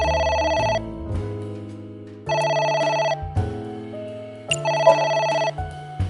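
A telephone rings in three repeated electronic bursts, each a trilling tone of roughly a second separated by short pauses, with low musical tones sounding between rings.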